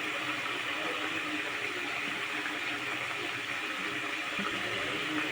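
Water pours steadily into a fish and green banana curry in a cooking pot, a continuous splashing hiss with faint sizzling underneath, close and unbroken for several seconds, with no talking.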